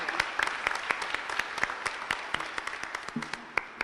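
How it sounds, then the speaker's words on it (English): Brief round of clapping from a banquet audience at a high school academic awards night, moderately full applause with a few sharp, distinct claps standing out before it fades. "Let's give them a round of applause for an outstanding job."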